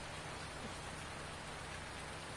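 Rain falling in the video game Farming Simulator 19, a constant, soft hiss of steady rainfall with no variation or voices, heard quietly throughout.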